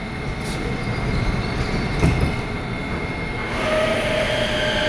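A Kyiv metro train stands at Universytet station with its doors closing, then pulls away. A loud, steady rumble of railcars fills the platform, with a sharp clack midway and a rising whine as the train departs.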